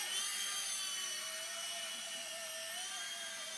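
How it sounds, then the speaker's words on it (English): A Blade mSR radio-controlled helicopter flying nearby, giving a continuous high-pitched electric motor whine with a slight pitch wobble as it maneuvers, steady and fairly loud throughout. "But this is a very fast copter."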